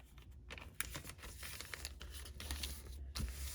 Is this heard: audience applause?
no